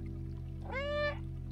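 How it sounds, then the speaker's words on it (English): A single cat meow in the video game Stray, clear and close, rising and falling over about half a second against a steady low electronic hum, with no talk. "Meow."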